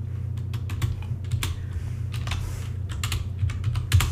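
Fingers type code on a computer keyboard in a rapid, uneven run of close key clicks over a constant low hum, with no talking.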